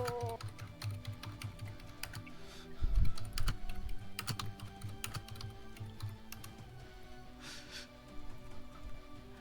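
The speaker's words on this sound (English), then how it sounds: "my keyboard's just loud" A loud computer keyboard clatters with quick, uneven keystrokes close by, a burst of heavier presses in the middle, and no talk over the typing.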